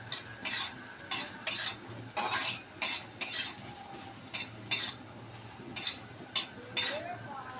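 Soybean chunks frying for khichuri, stirred in a pan with a metal spoon: loud, rhythmic scraping strokes about once a second over a steady low sizzle, close by.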